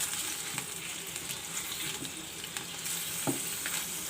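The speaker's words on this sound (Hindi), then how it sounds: "चिकन को लहसुन के साथ अच्छी तरीके से हम फ्राई करेंगे।" Small cubes of chicken fry with garlic in a pan, giving a steady, close sizzle with occasional stirring scrapes throughout.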